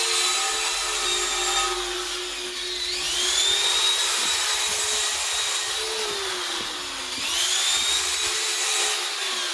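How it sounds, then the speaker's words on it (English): Whining power drill spinning a small wire wheel against metal on a Harbor Freight tire changer, a steady high buzz with pitch dipping and rising as pressure changes. "I just have a little wire wheel and a drill."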